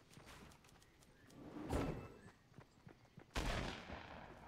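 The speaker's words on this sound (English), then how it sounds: "Oh, somebody's shooting." Gunfire in the Fortnite video game: a few muffled game gunshots and bursts at moderate loudness, with two sharper louder blasts standing out over a busy background of other game sounds.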